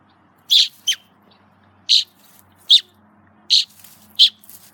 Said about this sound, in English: He's chirping. He's communicating with his mommy.